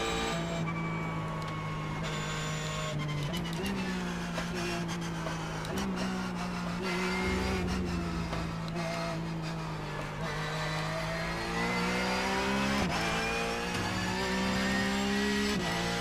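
A Porsche 911 Cup race car drives on the Suzuka circuit, its engine droning loudly and continuously from onboard, pitch climbing and dropping through gear changes and throttle shifts.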